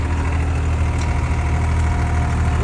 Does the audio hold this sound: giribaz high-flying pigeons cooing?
no